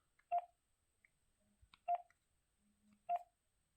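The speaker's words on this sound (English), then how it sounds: "I'm going to dial my phone" Three short dialing tone beeps evenly spaced about a second and a half apart, keyed in to call a Samsung Galaxy S21, clean and close with faint clicks between.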